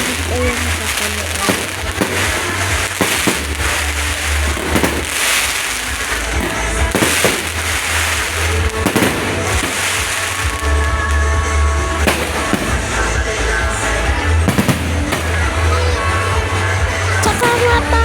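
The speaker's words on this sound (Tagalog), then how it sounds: "Paparinig ko nga lang muna sa inyo mga beauty yung fireworks" Rapid crackling fireworks bursts and pops go off continuously, with a steady low rumble and occasional louder bangs throughout.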